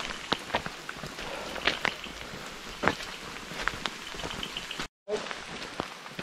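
Heavy rain at Jotiba temple makes a steady, dense patter with scattered nearer drops, broken by a brief dropout near the end.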